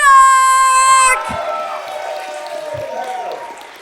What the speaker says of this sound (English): I want him to give a massive round of applause for Travis Jack!